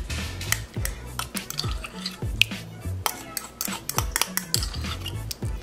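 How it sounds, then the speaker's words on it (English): Greek yogurt being mixed into cake batter in a bowl, with a utensil repeatedly scraping and clinking against the sides in quick irregular strokes, loud and close. "So we're just gonna mix that."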